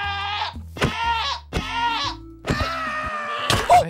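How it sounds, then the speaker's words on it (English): A screaming goat from Minecraft gives four loud, close bleating screams in a row, each harsh and wavering, separated by short gaps with no talking over them. "Okay, so that's the screaming goat."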